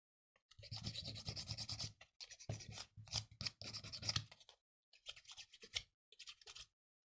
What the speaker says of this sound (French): Là en travaillant à la lime, ça permet de donner des traces d'usure.